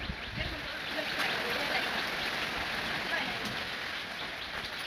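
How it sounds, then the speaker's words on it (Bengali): Heavy rain pours down steadily in a prolonged downpour with wind, a dense, unbroken hiss of drops on surfaces throughout, with no talking. "আর বৃষ্টি দেখ কী অবস্থা হয়ে গেছে পানিতে পানি"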